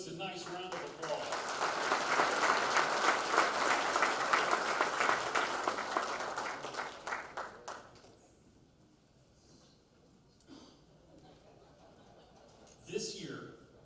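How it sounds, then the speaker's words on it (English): An indoor crowd at a department convention claps warmly for several seconds. The applause rises, holds steady and then fades, and a voice speaking over a microphone follows. "Let's give these posts a nice round of applause."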